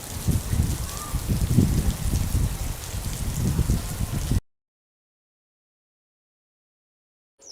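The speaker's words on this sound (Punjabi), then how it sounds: "ਸਵੇਰ ਦੀ ਬਾਰਿਸ਼ ਹੋਣ ਦੀ ਹੈ ਜ਼ੋਰੋ ਜ਼ੋਰ ਇੰਜੀ ਆ ਵੇਖੋ" Dense, steady rain hisses and patters loudly for a few seconds, then stops abruptly into silence.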